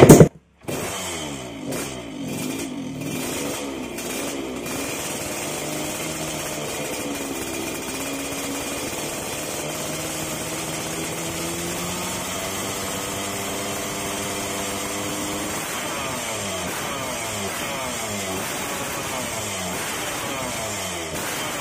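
A motorcycle engine idles and revs during carburetor tuning for rich and lean mixture settings, starting with a sharp burst then settling into a steady, buzzing run with rising and falling rev sweeps.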